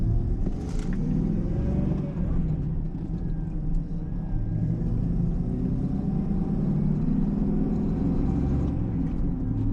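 A manual-transmission car driving on the road, its engine and road rumble loud and steady throughout, with no talking over it.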